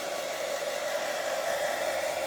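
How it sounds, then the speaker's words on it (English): A handheld hair dryer blows steadily at close range over wet paint on a gel printing plate, a continuous even whoosh with a constant whine and no talking. "I'm going to get my hairdryer onto that just to set it"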